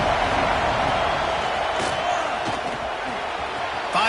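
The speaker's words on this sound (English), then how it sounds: "Man, this crowd really affecting the football game." A home crowd roars steadily at a football game in Madden 26, a dense, loud wash of cheering that carries through without a break, with a sharp thud near the end.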